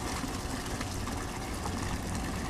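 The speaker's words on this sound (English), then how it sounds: "we're scooping buckets of this mixture, and we're screening out for large bits of cacti that haven't broken down" Thick prickly pear cactus paint mixture being scooped from buckets and poured through a large screen that catches unbroken cactus bits, giving a steady, close wet sloshing and trickling throughout.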